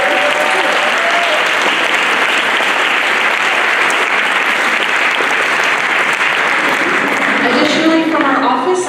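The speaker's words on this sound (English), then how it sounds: "Can we give Dr. Jensen a round of applause?" An audience at a school choral event applauds loudly and continuously for about nine seconds, a dense roar of many hands clapping close to the microphone, with a few voices rising near the end.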